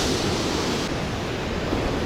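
Sea waves breaking on the Black Sea shore at Odesa after a storm, a dense continuous wash of surf with wind, loud and close.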